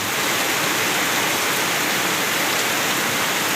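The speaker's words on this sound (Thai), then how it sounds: "ฝนมาแล้วฝนมาแล้ว" Rain pours in a dense, steady hiss, loud and unbroken, with no voices over it.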